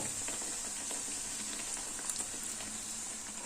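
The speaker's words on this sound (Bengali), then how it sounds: "একটু উল্টে পাল্টে বেশ লাল লাল করে মচমচে করে ভেজে নেব" Beguni, battered eggplant fritters, deep-frying in hot oil, a continuous bright sizzling hiss with faint crackles and pops, close and steady throughout.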